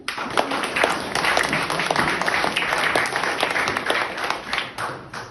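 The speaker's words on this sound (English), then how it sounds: "I'm glad you clapped first." A small live audience at the Talisman applauds a poet stepping up to the mic, steady close clapping that holds the whole time with no talk over it.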